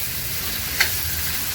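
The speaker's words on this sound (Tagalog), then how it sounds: "ilalagay na natin ang sugpo" Large prawns (sugpo) hitting a hot pan for a mung bean dish, giving a steady, moderate sizzle of frying with a brief brighter crackle midway, no voices.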